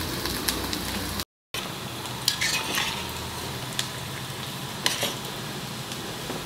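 Chopped onion frying in a pan for a prawn and pumpkin curry, a continuous crackling sizzle broken by a short dropout and punctuated by occasional sharp spoon-against-pan scrapes.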